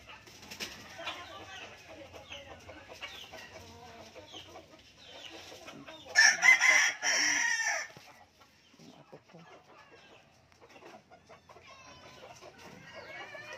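A rooster crows loudly once nearby, amid a steady background of chickens clucking and scratching around.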